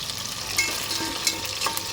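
Chicken pieces frying in oil over a high flame for a Chinese-style biryani, a continuous close sizzle with faint crackles.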